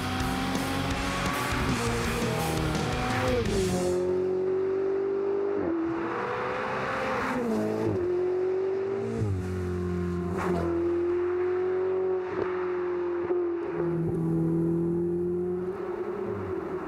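A Ferrari 488 Spider's 3.9-liter turbocharged V8 revs hard and steadily, its pitch rising and falling through repeated throttle blips, loud and close with no talking.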